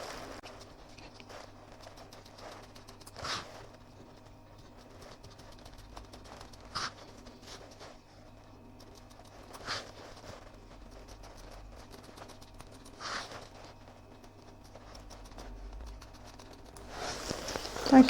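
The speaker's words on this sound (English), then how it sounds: "I will just cut around close to the stitching here" Sharp scissors snip through fabric close to a line of stitching on a Halloween coaster, a few faint, evenly spaced cuts over a quiet room.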